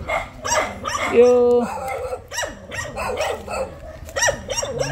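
Several dogs bark repeatedly outdoors, at varied distances, in short overlapping bursts, mixed with people chatting nearby.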